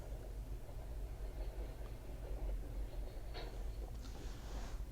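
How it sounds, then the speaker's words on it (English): A long freight train with containers and car haulers rolls past at a distance near a live cam in Seymour, Indiana, a steady low rumble and rattle of wagons continuing throughout with faint higher squeals. "So quite a long train."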